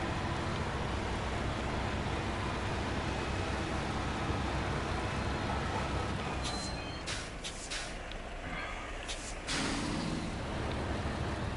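Heavy truck engines in the video game SnowRunner, a dense, loud, continuous rumble and hiss that thins briefly about two-thirds through before returning.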